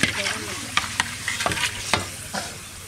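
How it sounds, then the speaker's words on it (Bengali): Papad frying in hot oil left over from frying brinjal, at a village cooking spot; a steady close sizzle with scraping stirs and a few sharp clatters recurring about every half second. "বেগুন ভাজা তেলেই পাপড়টা ভেজে নিচ্ছি, এক্সট্রা কোনো তেল দিইনি"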